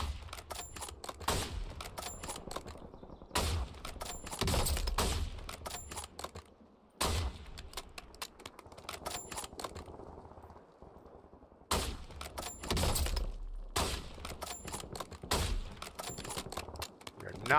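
Bursts of rapid automatic gunfire in the video game Warzone, repeated volleys separated by short pauses, loud and close, with a voice talking over parts of it.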